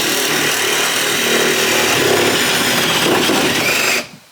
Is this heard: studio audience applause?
no